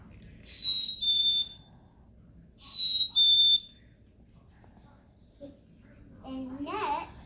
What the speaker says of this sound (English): Next is a chickadee.